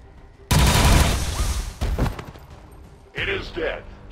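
Final shots of gunfire in the XCOM 2 War of the Chosen video game: a loud, sharp burst of fire rings out and decays, followed by a second thump, then a brief electronic game voice.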